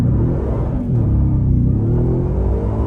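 A fresh 2023 Ford Raptor R truck in two-wheel drive accelerates with its wheels spinning, a loud steady engine rumble and whir holding close and constant throughout.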